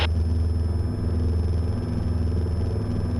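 Cessna 172 engine at full power during the takeoff roll, a loud, steady droning rumble with rhythmic propeller beating and light clatter, heard from inside the cabin without any talk.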